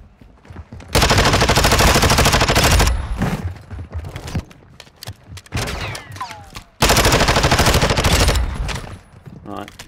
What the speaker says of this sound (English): That's me just shooting bots.